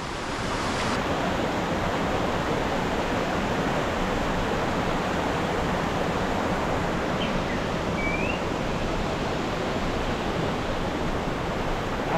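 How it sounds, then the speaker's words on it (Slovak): Sekumpul waterfall, the highest waterfall on Bali, roars as a constant, loud wash of falling water close by, broadband and unbroken, with a faint high chirp near the end. "vodopád na ostrove. Krásny. Vodopád Sekumpul."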